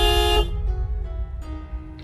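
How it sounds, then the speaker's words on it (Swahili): A car horn sounds in a loud, sustained blast up close, then drops away, followed by a second, fainter honk about a second later over low background rumble. "Piga honi kwanza."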